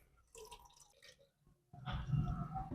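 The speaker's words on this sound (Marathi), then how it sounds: "कुकर मध्ये आपल्याला पाणी घालायचं आहे" Water splashes and pours into a metal pressure cooker, starting with a few light drips and then a louder, steady pour, close by.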